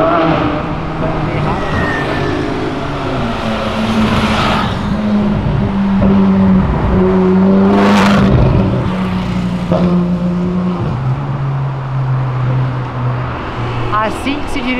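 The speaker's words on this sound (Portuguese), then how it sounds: "Assim que se dirige uma Ferrari." A Ferrari supercar drives slowly along a city avenue, its engine droning and rising in revs beneath continuous nearby conversation.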